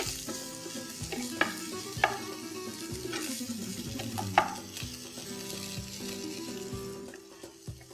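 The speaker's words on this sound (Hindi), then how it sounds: "1 प्याज लंबा कटा हुआ, इसे हम 2-3 मिनट तक कुक कर लेंगे।" Sliced onion fries in a pan for matar pulao, a steady sizzle running throughout with a few sharp clinks and scrapes of stirring, and no talking.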